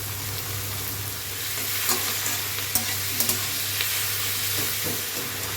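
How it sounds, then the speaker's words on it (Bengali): Shrimp frying in a pan, a steady close sizzle with occasional sharp crackles and stirring scrapes running throughout, no talk. "এবার দিচ্ছি চিংড়ি মাছ"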